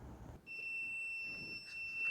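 A continuity tester checking a seat switch on a John Deere LA145 riding lawn mower gives a steady, continuous electronic beep that holds for about two seconds, quiet and alone.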